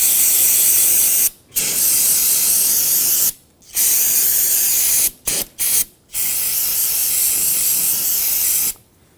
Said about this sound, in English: take some brake parts cleaner and you can clean up the area where some of the brake fluid might have gotten